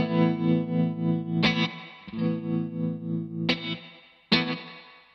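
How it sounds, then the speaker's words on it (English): Electric guitar chords ring through a Gravitas tremolo placed ahead of a reverb pedal, with a pulsing, throbbing sustain and distorted tone. Several strums fall in sequence, the last one decaying into long reverb trails, with no voices. "let's throw the reverb back on, and just so you guys can remember, let's have the Gravitas before"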